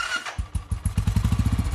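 A motorcycle engine close by goes from a few uneven putts into a rapid, steady idle chug that grows louder as the rhythm settles.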